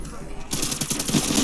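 Rapid automatic gunfire from a weapon in Call of Duty Cold War Zombies on the Firebase Z map bursts in after a short quiet moment and continues as a dense, continuous rattle of shots.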